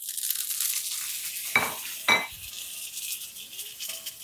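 King oyster mushrooms seasoned with salt and pepper and pan-fried, stirred around in the pan: a steady close sizzle with two sharp utensil clinks against the pan.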